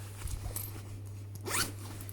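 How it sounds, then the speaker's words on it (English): A big zip on a quilted crossbody bag being pulled open, one quick sliding rasp just past the midpoint, close and clear, with a faint earlier scrape and steady low hum underneath. "So, same big zip opening"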